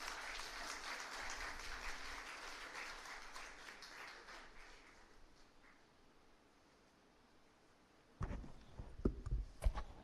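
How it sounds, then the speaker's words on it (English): A lecture hall audience applauds to welcome a speaker to the podium, broad clapping that fades out over several seconds, followed by a quiet gap and then louder handling knocks and bumps near the end. "Let's extend a warm round of applause as we invite him to the podium."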